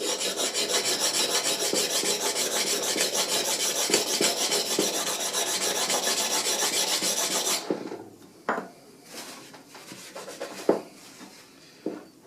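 A hand file rasps steadily across the metal of a 1911 pistol in long continuous strokes, then gives way to a few short scrapes and soft handling knocks.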